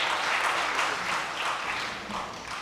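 An audience at a conference session gives a full round of applause, a steady, dense patter of many hands that holds at an even level and then eases slightly toward the end.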